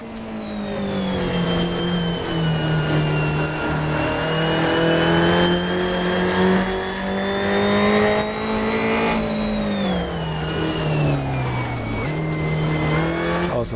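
An Alfa Romeo Giulia TZ2 race car on the Nordschleife holds a loud, close, continuous engine note throughout, its pitch sagging and climbing with gear changes and corners, heard alone without any talking.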